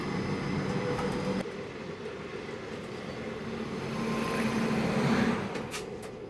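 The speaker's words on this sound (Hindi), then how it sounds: "पहले हमारी ट्रेन को ही यहाँ से निकाला जा रहा है और फाइनली अब हक से बोल सकते हैं कि मालदा नई दिल्ली को यहाँ पे हम ओवरटेक कर रहे हैं" The Begampura Express passenger train rolls out from the inside, overtaking the Malda–New Delhi train. A steady rumble and rail noise run throughout, with a soft whoosh and faint wheel clatter partway through and no talking.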